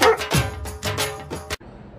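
A dog barks several times in quick succession, loud and close, each bark sharp and separate, ending abruptly before a short quiet tail.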